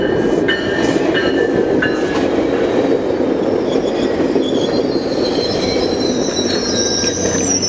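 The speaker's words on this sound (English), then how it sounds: "It's a commuter train." A short commuter train with an MP36 locomotive rumbles steadily past close by in Fullerton, with rhythmic wheel clacks and high metallic squeals rising over the continuous roar.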